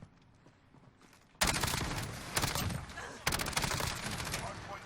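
Light machine gun fire from Call of Duty: Modern Warfare, loud sustained bursts starting after a quiet opening second, with a brief gap before a second long burst.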